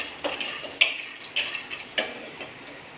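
Peanuts dry-roasting in a pan on a stove, a spoon scraping and stirring them in a few separate strokes, with light rattling clicks and soft sizzle, close and fairly quiet.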